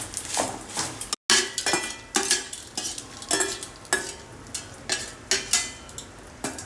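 Dried red chillies frying in a pan, with a utensil scraping and clinking against the pan in a steady rhythm of close strokes over a faint sizzle.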